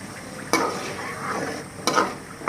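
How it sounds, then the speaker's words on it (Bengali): Pakan pitha frying slowly in oil over low heat, a soft continuous sizzle punctuated by two sharp utensil scrapes against the pan, close up with no voices. "এইভাবে আস্তে আস্তে কম জালে এইভাবে ভাজতে হবে পিঠাটা"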